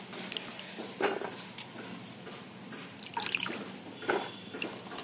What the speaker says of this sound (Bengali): জলটা ঝাড়িয়ে নিতে হবে।